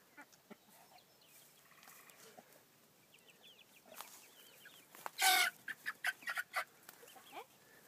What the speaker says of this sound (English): That's a rooster right there.